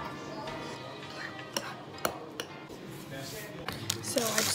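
A spoon clinks and scrapes against a bowl while coconut sugar and maple syrup are stirred into oats, with a few sharp taps over soft background noise and a voice talking.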